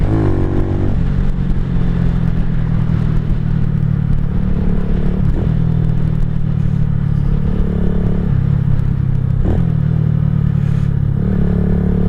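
A KP Mini 150 motorcycle fitted with a new muffler accelerating on a ride, its engine buzzing and droning with steady harmonics, the pitch rising and dropping at a few gear changes, with no talking.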